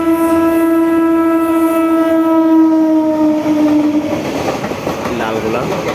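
A Lalgola passenger train pulls into a station on a long, loud horn blast that fades into rumbling and the clatter of wheels over the rails.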